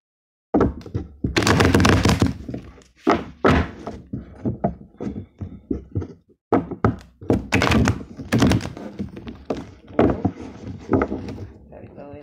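Tarot cards riffle-shuffled close by, with dense fluttering bursts of card snaps mixed with soft thunks of the deck being squared and tapped, and what may be some talk in between.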